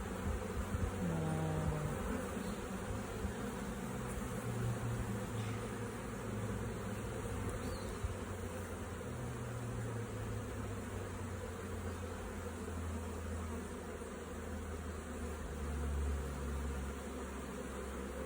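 Honeybees buzz at an observation hive, a dense, steady hum droning on throughout with faint shifts in pitch, close and continuous.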